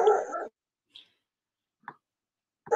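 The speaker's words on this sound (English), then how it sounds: "My dog is barking. Can you hear it?" A dog barks a few times from down the hall, faint yelps separated by silence, bracketed by nearby talk at the start and end.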